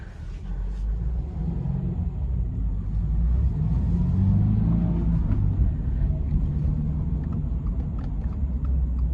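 A Toyota GR86 pulling away and driving after warming up, a low steady engine rumble with road noise heard from inside the cabin, continuous and fairly loud.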